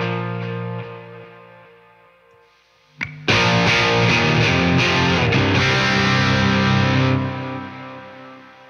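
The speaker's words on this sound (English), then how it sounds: "So as you can hear, you're getting tons of gain out of the amplifier without having to change anything on it." High-gain electric guitar run through compressor and drive pedals into an amplifier: a sustained note decays, then a loud distorted chord rings thick and steady for several seconds before cutting off.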